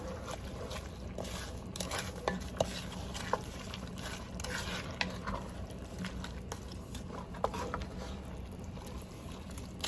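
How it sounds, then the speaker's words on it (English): Frozen cauliflower rice is stirred into a boiling one-pot bell pepper casserole, giving steady wet bubbling and squishing with scattered clicks and scrapes of a spoon against the pot, moderately quiet and without talk. "now I'm getting ready to add in my cauliflower rice, and this is frozen, from Frozen. And we're gonna mix this in really well."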